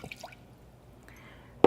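Half a cup of water goes in for a quinoa and Roma tomato salad: a few soft drips and a thin trickle, then a sharp, louder splash right at the end, with quiet between.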